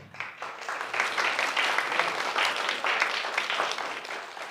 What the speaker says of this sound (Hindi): हम सब रियासत भाई का एक आखिरी शुक्रिया अदा करते हैं ताली बजाकर